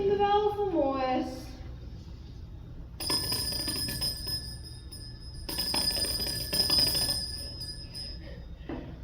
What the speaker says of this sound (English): Ring the bell for Morris.